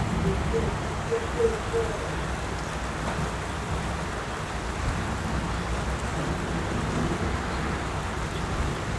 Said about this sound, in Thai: กรุงเทพฝนตกหนักนะครับ